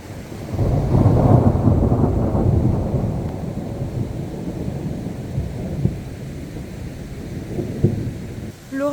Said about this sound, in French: L'orage commence à gronder,